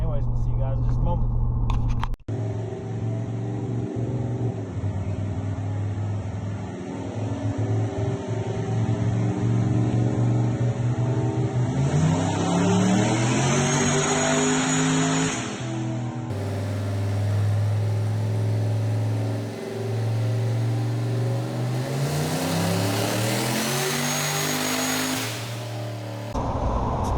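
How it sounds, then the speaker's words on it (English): The Boost Knuckle car's engine revs on a dyno pull, a sustained droning roar climbing steadily in pitch over several seconds, then settling and building again, with people talking nearby. "see if we can make a few dyno pulls"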